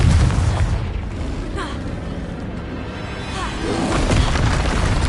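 Confringo blast spells from the Hogwarts Legacy game burst in loud booming explosions, with a heavy blast at the start and another swelling near the end over continuous rumbling combat noise.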